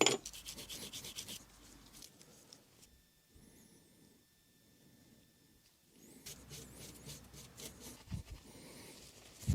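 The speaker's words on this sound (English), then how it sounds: "I'm gonna start with just cleaning these screws and putting some lube on them." Battery mount screws on a JCB 8010 mini excavator are rubbed clean, giving soft scrubbing and rasping strokes in rhythmic bursts with a quieter stretch in the middle. The sound is close and faint, with no talk.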